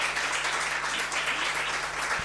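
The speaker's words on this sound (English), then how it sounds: "Can we just have one more round of applause for KYP" An audience applauds the KYP community steadily, a dense, even wash of clapping that holds at a constant level throughout.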